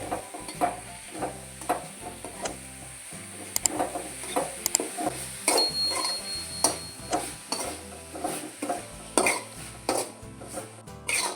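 Jaggery and grated coconut filling for wheat-flour modak being stirred in a pan, with repeated rhythmic scrapes and clinks of a spoon against metal over a low sizzle, close and without speech.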